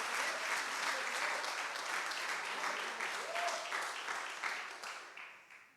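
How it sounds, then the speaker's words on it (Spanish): A church congregation claps in sustained, dense applause that fills the room evenly, then gradually fades away toward the end. "Denle un aplauso aunque sea a Dios."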